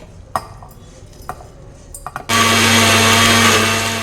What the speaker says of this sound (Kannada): ಈಗ ಇದಿಷ್ಟನ್ನು ಮಿಕ್ಸಿನಲ್ಲಿ ನುಣ್ಣಗೆ ರುಬ್ಕೋಬೇಕು.